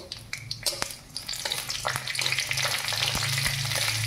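Dried red chillies and cumin seeds sizzle and crackle in hot oil, a steady close frying hiss with sharp pops and a spoon stirring now and then, building slightly louder toward the end.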